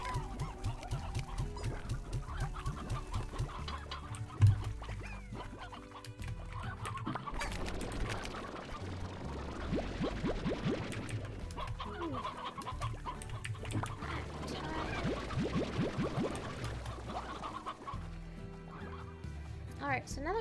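Chickens in the video game Slime Rancher cluck repeatedly throughout, in scattered bursts at moderate volume beneath a man's near-constant talk and game sounds.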